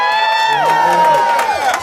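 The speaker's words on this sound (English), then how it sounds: "Y'all gotta give my girl a round of applause." An audience at an unplugged music showcase whoops and cheers for a new artist, a sustained loud shout-filled crowd roar with a voice over it.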